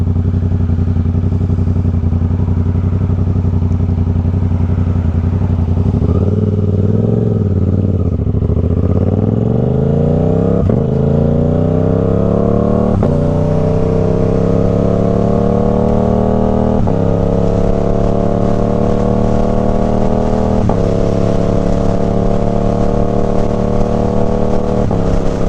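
A 2024 Suzuki GSX-8R motorcycle with a Toce exhaust runs loud and steady, climbing through several rising revs in high gear with a continuous engine drone throughout, no talking.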